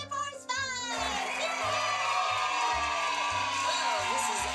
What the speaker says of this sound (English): A round of applause for Ideafund and Spectra Force Vive!